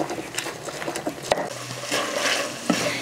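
Steak browning in a pan, a soft sizzle under a few scrapes and light clanks of a utensil against the cookware, close and fairly quiet.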